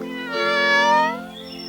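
A single clear, close cat meow, rising and then trailing off, heard on its own.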